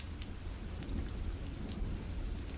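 Steady rain pours down with rumbling thunder underneath, a continuous dense wash of drops across the whole stretch with low booming swells and no voices.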